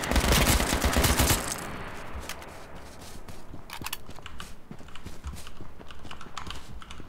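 Shotgun fire in the H1Z1 battle royale game: a loud, dense blast of gunfire for about a second, then quieter scattered clicks and sharp cracks over a low rumble.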